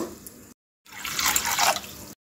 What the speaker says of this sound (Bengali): এরপর বাঁধাকপি সেদ্ধ করার জন্য কড়াতে জল দিয়ে দেব।